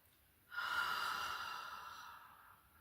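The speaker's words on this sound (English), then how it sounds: "Take a deep breath." One long, slow, deep breath, drawn in sharply through the nose and then fading gently, close and quiet.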